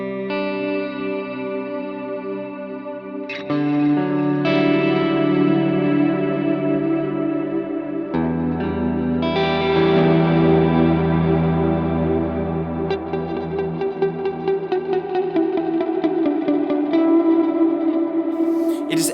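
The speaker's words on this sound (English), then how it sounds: "I have a transistor tape delay with the wow and flutter maxed out so we can get some crazy warbling" Guitar chords run through an HX Stomp reverb with a transistor tape delay whose wow and flutter are maxed, giving long repeating echoes that warble and waver in pitch, loud and sustained, with no talking.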